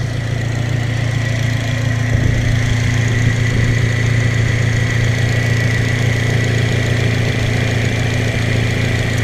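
Acura RSX Type S fitted with an HKS cat-back exhaust runs at a steady, loud, close-miked drone with a constant low rumble and no clear rev spikes, no talking over it.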